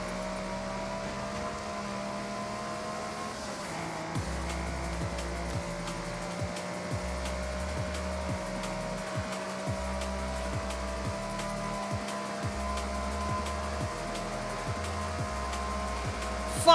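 A small three-cylinder car engine in a racing game, droning steadily throughout with pulsing low gear-change dips as it revs and shifts, loud and continuous.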